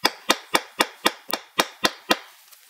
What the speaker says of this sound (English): Doing a little beveling. Some good old bevels.